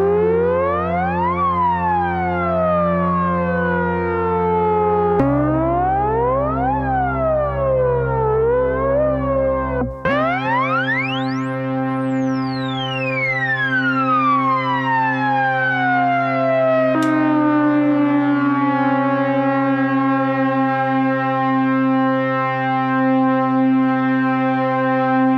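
Sustained synthesizer tones from a Doepfer A-185-2 Precision CV Adder, with sweeping, gliding pitches rising and falling over a steady drone, spacey and continuous with no voices.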